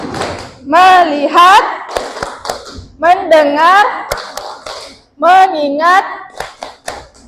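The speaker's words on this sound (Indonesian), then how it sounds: "untuk melatih fokus kita akan tepuk fokus" A primary school class does the rhythmic 'tepuk fokus' clapping routine, three bursts of group hand claps in quick patterns alternating with children chanting words in unison.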